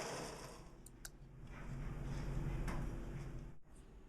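A sewing machine stitches a straight line across a fabric stuff sack, with a soft steady mechanical whirr and faint ticking that swells in the middle and stops abruptly near the end; quiet overall.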